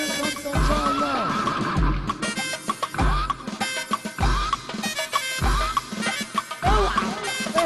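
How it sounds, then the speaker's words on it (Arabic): At a village wedding celebration, a horse gives repeated loud neighs and whinnies, about six rising-and-falling calls in quick succession with short pauses between them. No speech is heard. "اوعى اوعى الحصان واقف قدامي"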